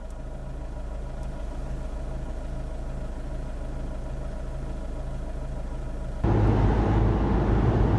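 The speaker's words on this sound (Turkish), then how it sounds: "Kırmızı ışıkta rölantide lambada bekliyoruz." A SsangYong Rexton W SUV engine idles at a red light in neutral with a steady low rumble, then the sound grows louder and rougher near the end as the engine noise swells.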